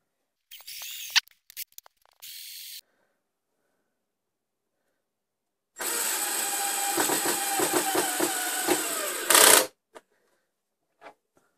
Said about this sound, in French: Fais attention que ta mèche soit bien perpendiculaire